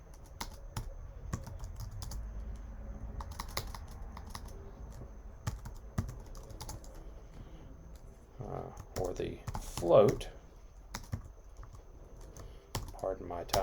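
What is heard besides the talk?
typing on a computer keyboard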